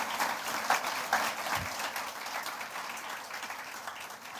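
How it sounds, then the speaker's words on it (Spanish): A church congregation applauds with sustained, fairly faint clapping that fills the room evenly for a few seconds. "Démosle un aplauso al Señor."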